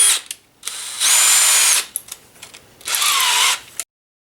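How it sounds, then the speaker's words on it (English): A power drill fitted with a 3/8 inch bit widens bolt holes during a band saw conversion, its motor whining loudly and close in two sustained bursts, with short trigger blips and ratcheting clicks between them. "Next is a 3/8 inch drill bit."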